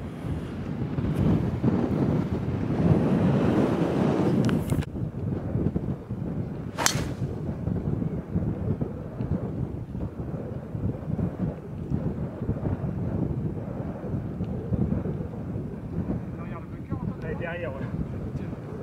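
Strong wind buffets the microphone on the Ardglass seaside golf links, a loud, continuous low roar and rumble lasting the whole stretch, with heavier gusts early on and a brief sharp crackle midway.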